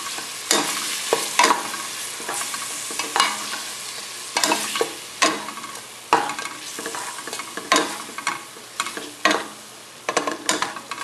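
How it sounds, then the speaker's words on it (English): Ginger and garlic are stirred in a hot pan with sesame oil, giving a steady sizzle broken by repeated scraping and clanking strokes of the utensil against the pan, close and without speech. "ginger and garlic. And you stir a little bit."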